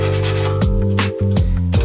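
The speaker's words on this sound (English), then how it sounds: "filing it down" Hand file sharpening the teeth of an antique crosscut saw, rasping in steady close back-and-forth strokes, loud and alone, with about three distinct passes.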